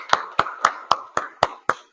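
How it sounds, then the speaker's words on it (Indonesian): A small group in a classroom claps in a steady, even rhythm, seven sharp claps about a quarter second apart, close and clear with no talk over them. "tepuk tangan lagi yuk"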